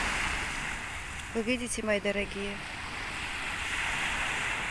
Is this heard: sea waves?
yes